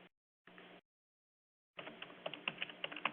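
Typing on a computer keyboard during data entry into a label software form, faint key clicks in a short burst, then a denser run of quick taps.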